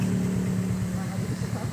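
A group of four motorcycles, including Honda Click scooters, climbs a steep uphill road, their engines droning in a steady mid-pitched hum close by while someone talks over them.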